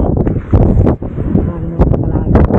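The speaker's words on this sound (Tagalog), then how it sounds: "Ulang-ulang, lakas ng hangin." Strong wind buffets the microphone in heavy low rumbling gusts, close and loud, with a voice speaking over it.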